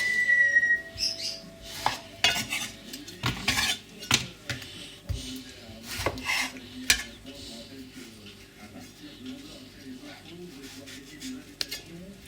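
Knife work in a home kitchen while cutting food into quarters for a ham roast recipe: scattered clinks and knocks of blade on board and dishes, fairly close, with sparse sharp taps over a low background hum.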